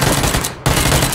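Rapid automatic gunfire in the video game PUBG: a loud, dense burst that breaks off briefly and then resumes.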